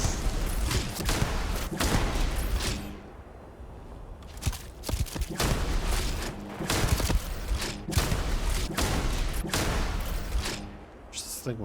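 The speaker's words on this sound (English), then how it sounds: "This person certainly fires a lot of bullets." Rapid enemy gunfire in the sci-fi game Starfield, a dense, sustained barrage of sharp shots and thuds lasting most of the clip, with brief lulls and a near, loud presence; a person talks over parts of it.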